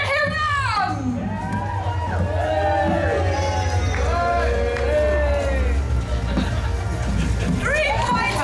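Crowd at a medieval jousting show cheering for the Black Knight, with children's shouts and whoops rising and falling over a low steady rumble, fairly close and lively.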